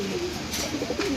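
Pigeons cooing at close range in a loft, a soft low throaty coo rolling continuously over a steady background hiss.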